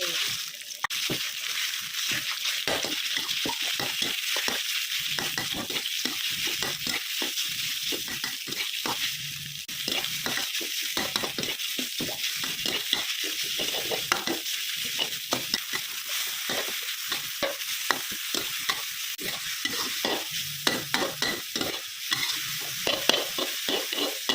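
Pork and garlic stir-fried in a pan, with steady loud sizzling and frequent scraping and stirring strokes throughout.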